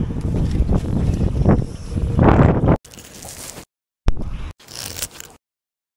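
Strong wind buffeting the microphone in rough, low gusts, then cutting out into brief silences and returning in short bursts.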